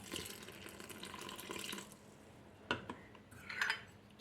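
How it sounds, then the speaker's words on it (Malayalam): Water runs and splashes steadily into wheat dosa batter in a bowl for a couple of seconds, then stops, followed by a few clinks of utensils against the bowl. "ഇനി നമുക്ക് ഇതിലേക്ക് ആവശ്യത്തിന് വെള്ളം ചേർത്ത് കൊടുക്കാം"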